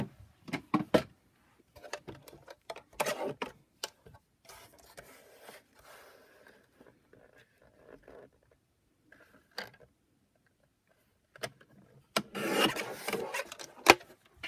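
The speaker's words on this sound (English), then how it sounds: "we can take our trimmer and trim that down." A paper trimmer slices through card in short scraping strokes, several rasping bursts separated by quiet gaps, close and fairly faint, with a louder run of sliding and cutting near the end.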